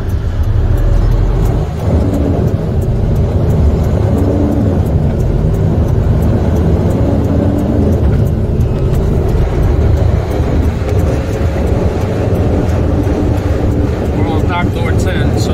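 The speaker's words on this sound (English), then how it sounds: "Just waiting for this truck to pass" A large truck passes near a container depot gate, a loud, steady low engine rumble that fills the whole stretch, with a brief faint whine near the end.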